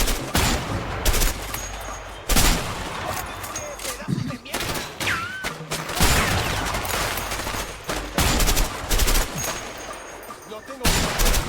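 Gunfire in the video game A Way Out crackles in dense bursts and sharp volleys, some rapid like machine-gun fire, with players talking between and over the shots.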